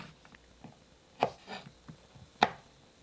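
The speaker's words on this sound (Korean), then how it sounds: "4cm 길이로 썰어주세요." A knife cuts garlic scapes into 4 cm pieces on a board: three crisp, separate chops spaced about a second apart, close and clear, with no voices.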